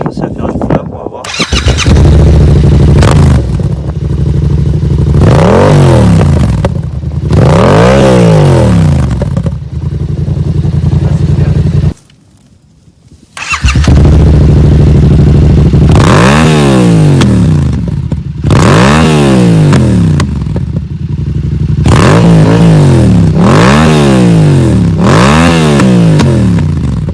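A 2019 Yamaha MT-07 motorcycle engine revs loudly again and again, each throttle blip rising and falling, with one brief pause of near silence midway.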